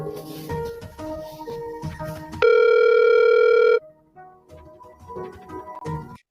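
A telephone tone sounds at the start of a recorded phone call: a loud, steady electronic ring lasting a little over a second, set between stretches of other sound and sound effects.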